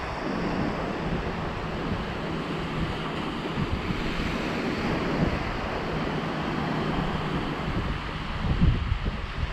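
Steady wind sweeps across a sandy beach at Atwick near Hornsea while surf rolls constantly in the background, a dense broadband roar with no voices.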